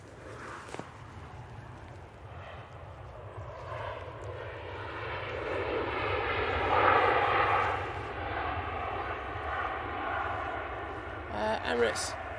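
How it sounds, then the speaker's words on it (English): An Emirates airliner taxis slowly toward the gate at Manchester Airport, its engines a broad rising and falling roar swelling toward the middle, with people talking nearby. "Emirates is going to taxi very slowly to gate"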